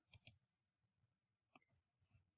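A computer mouse clicks twice in quick succession, sharp and close, then once more after a pause, with faint soft taps in an otherwise quiet room.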